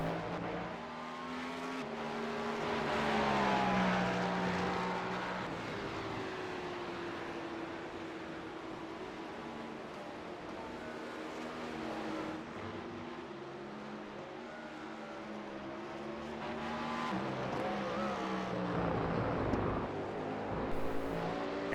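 A Porsche Cup race car roars through turn 1 at Circuit of the Americas on the final lap, its engine note rising and falling as it accelerates, loud and sustained over a rumbling backdrop of other cars.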